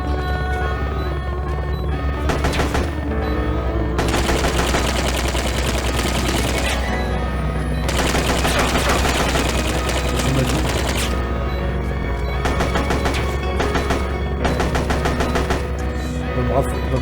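Rapid bursts of gunfire from the video game Metal Gear Solid: Peace Walker, loud and sustained, with dense automatic volleys in several long stretches broken by short lulls over a steady low hum.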